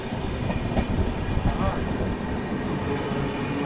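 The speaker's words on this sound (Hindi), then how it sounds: "यहाँ पर अभी अपनी पुरुषोत्तम एक्सप्रेस पहुँच रही है कोडरमा जंक्शन रेलवे स्टेशन पर।" Purushottam Express arriving at Koderma Junction railway station, heard from aboard a first-class AC coach: a steady, close rumble of rolling wheels with faint rhythmic clicking over the rails, continuous throughout.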